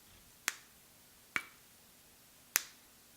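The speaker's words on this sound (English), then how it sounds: "And you can hear the quality of the clips." Three crisp, sharp snaps ring out about a second apart as hair extension clips are popped open, close and fairly quiet against a near-silent background.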